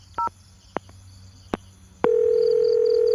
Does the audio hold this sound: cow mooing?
no